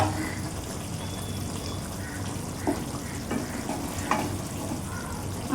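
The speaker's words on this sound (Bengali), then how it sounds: "এরপর আমি দেখব তরকারিটা ফুটেছে কেমন।" Hilsa fish curry with taro and eggplant simmering in a pot, a soft steady bubbling hiss with a few light clinks and scrapes of stirring, fairly quiet and continuous.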